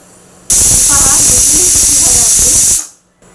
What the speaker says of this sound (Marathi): हे पहा एक शिट्टी झाली आपली आता